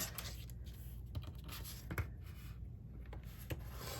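A circle cutter carves out a 3 1/2 inch circle, making a steady, close scraping rasp with a few sharp clicks along the way.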